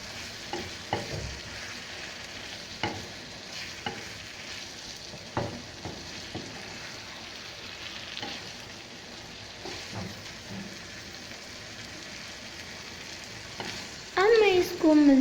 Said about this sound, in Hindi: अब मैं इसको मसाले में मिक्स करूँगी।